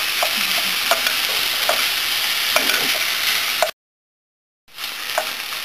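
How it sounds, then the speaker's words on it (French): Meat filling for piroshki stirred and mashed in a frying pan, a steady scraping and sizzling under faint frying hiss, with scattered utensil clicks and a brief silent gap near the end. "il ne faut pas oublier bien écraser les morceaux de la viande et mélanger non-stop"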